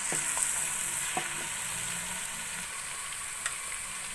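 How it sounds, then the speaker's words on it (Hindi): Steady hissing sizzle of garlic paste frying in ghee, with occasional light clinks of a spoon stirring the pan. "अब लहसुन को थोड़ी देर भून लेंगे।"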